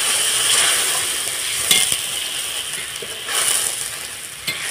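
Oil-released spice paste for a fried onion curry sizzling after a little water is added, a steady close hiss with a few brief stirring scrapes.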